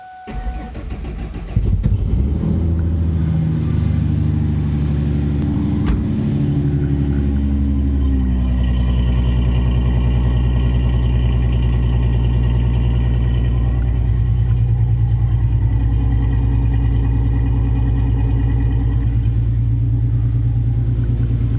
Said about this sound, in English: I'm going to fire it up so you can hear the exhaust.